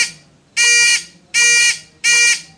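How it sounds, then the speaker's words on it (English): Three loud, identical electronic beeps from a simple transistor-circuit door alarm sound at an even pace, each about a third of a second long, separated by short silences. "As he enters the door, the beep starts beeping."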